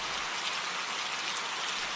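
Steady hiss of rain falling outside a veranda, a fine, even patter that is soft and continuous with no voices.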